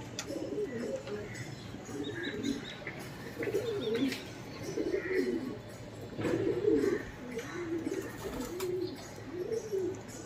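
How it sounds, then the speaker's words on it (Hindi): Low coos from long-flying, burnt-patterned Chhapdar pigeons, a pair of large male and female, roll on continuously in close overlapping phrases, with a few faint higher chirps above them. "ये भी एक जले हुए छापदार कबूतर है"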